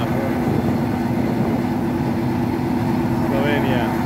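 An old diesel train engine on the Pula to Ljubljana line drones steadily and loudly close by, a constant low rumble with no pauses throughout.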